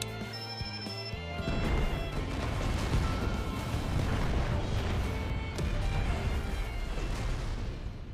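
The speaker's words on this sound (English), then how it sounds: "Then let the fireworks begin." Explosions in the Final Fantasy XIV: Endwalker game erupt as a dense, continuous crashing roar that swells after a brief quieter opening and stays loud throughout.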